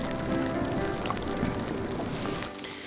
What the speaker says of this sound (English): Started raining now, so we got the tent on.